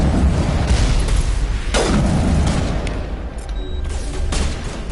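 Rapid bursts of gunfire and booming blasts from a Halo shooter game roll on continuously and loudly, with sharp crackling shots rising out of a dense, rumbling battle din.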